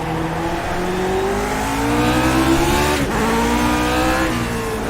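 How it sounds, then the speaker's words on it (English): A simulated Lotus 49 race car in iRacing accelerates down the straight at Okayama, its engine note rising steadily, briefly dipping at a shift, then climbing again, loud and continuous with no talking. "Squeeze that throttle on, leave it in third gear for the straightaway."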